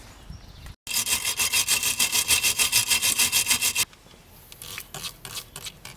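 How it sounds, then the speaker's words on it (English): Wire brush scrubbing a shock absorber nut on a Nissan Micra K10, rapid rhythmic back-and-forth scraping strokes for about three seconds after a brief pause, then a few lighter scattered scrapes. "We're going to give it a wire brush up first, spray it with some WD-40"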